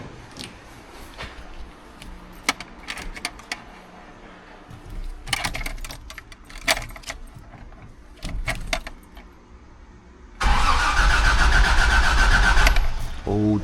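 A Toyota FJ60 engine cranks and catches near the end, settling into a loud, steady run after a stretch of jangling keys, clunks and movement; speech is present earlier.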